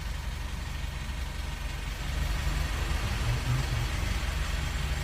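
Mitsubishi Pajero engine idling after a tune-up and purging, a steady low rumble with a slight rise in level partway through, heard close and alone.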